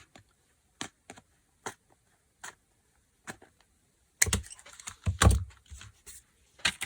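A piece being cut off a lino block with a carving tool: sparse, faint clicks and scrapes at first, then a denser burst of close scraping and cutting near the end, with no talking.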